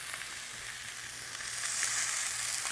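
Meat searing in a hot oiled pan gives a steady, bright sizzle that swells slightly louder midway, with no talking.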